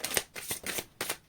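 A deck of tarot-style cards being shuffled by hand in bursts of riffling, four or five quick rustling runs with short pauses between them, close and fairly quiet with no talking.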